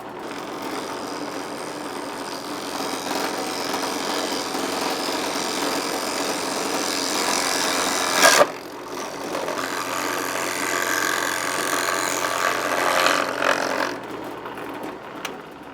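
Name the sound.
drill press drilling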